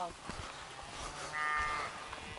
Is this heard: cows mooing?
yes